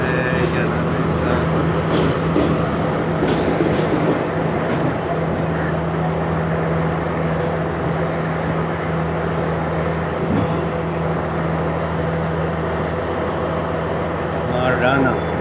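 A Sri Lanka Railways passenger train pulls into a station, its steady rolling rumble and wheel noise running throughout, with a thin high squeal from the wheels or brakes held over most of the run and a faint voice at the end.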